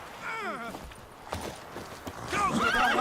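A horse in the video game The Witcher 3 whinnies and its hooves clop, with a second neigh near the end, amid game sounds and voices.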